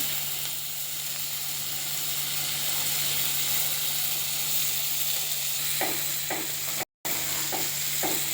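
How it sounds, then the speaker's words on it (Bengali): Spices frying in a kadai over high gas, with a continuous close hiss and sizzle and a faint background hum, then a few quick scraping stirs toward the end. "মশলাটা আমার ভাজা ভাজাও হয়ে এসছে।"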